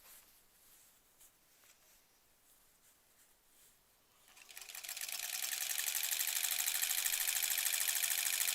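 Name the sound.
sewing machine stitching a granny squares quilt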